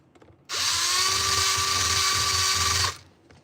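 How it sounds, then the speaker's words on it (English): A power drill whines loudly at a steady high pitch for a couple of seconds while drilling through a car floor, then winds down and stops. "the daggone drill went all the way through"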